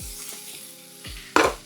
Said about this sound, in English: If it don't make that sizzle when it hits the pan, that means that it ain't ready.